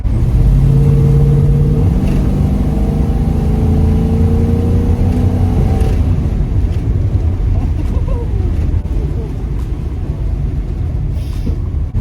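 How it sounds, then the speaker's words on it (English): A 1972 AMC Javelin SST's 360 V8 engine, automatic, drones and rises in pitch as it accelerates, exhaust rumbling loudly close by, then settles into a steady rough roar. "Exhaust, man, I love that exhaust. That exhaust is incredible."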